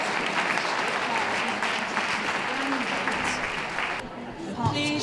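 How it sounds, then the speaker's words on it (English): Spectators applaud at a dog show ring during working group judging, sustained dense clapping from a crowd that carries on for several seconds and then drops away near the end. "Can we give a round of applause, please, for those leaving the ring?"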